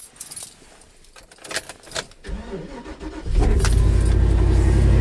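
Crew cab long box pickup truck starting up: keys jangle and the starter cranks, then the engine catches and settles into a loud, steady idle heard from inside the cab.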